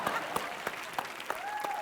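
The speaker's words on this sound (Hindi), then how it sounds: "जोरदार तालियां दोनों के लिए" An audience claps for a rap battle on an entertainment show, a steady close wash of applause with a few sharper individual claps and a faint tonal sound near the end.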